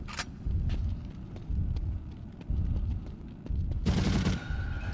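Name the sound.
machine gun fire in The Suffering video game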